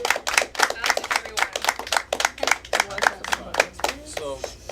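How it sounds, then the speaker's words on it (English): A small group claps for a school resource officer at a school gathering, with distinct, uneven individual hand claps close by and voices talking in between. "Let's give a round of applause."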